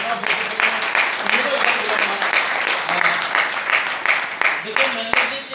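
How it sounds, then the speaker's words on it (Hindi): Enthusiastic applause from the audience at a business seminar in Bhilwara, brisk rhythmic clapping close by and fairly loud, holding steady for several seconds under a faint murmur of voices. "एक बार जोरदार तालियां महेंद्र सिंह जी के लिए चाहूंगा"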